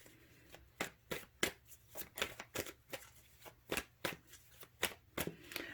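An Arcanum tarot deck is shuffled by hand in a series of about a dozen quick, crisp riffles and snaps at a fairly regular rhythm, close and fairly quiet.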